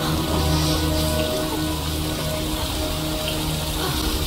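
Steady rain falling on a hard surface, a dense, even patter with a low hum beneath it, continuous throughout.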